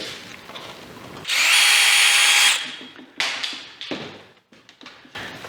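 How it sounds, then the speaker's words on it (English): A power drill bores a pilot hole into hardwood with a very small bit, a loud steady whine lasting about a second and a half, followed by scattered taps and knocks of handling. "Now I'm going to drill a pilot hole with a very small bit."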